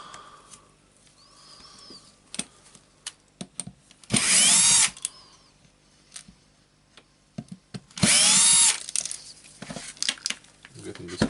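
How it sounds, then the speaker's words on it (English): Torx 10 screws being driven out of a Berner BROS 150 orbital sander with a power screwdriver, two loud whirring bursts among small clicks and taps of handling, close by. "Getting the screws out"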